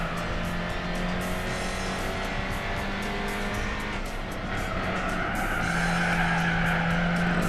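A Renault Alpine race car in Gran Turismo 4, running softer rear tires, slides through a corner with a long continuous tire squeal over a steady, loud engine drone that shifts pitch as it drifts.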